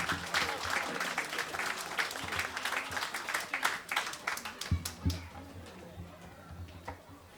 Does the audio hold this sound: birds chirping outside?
no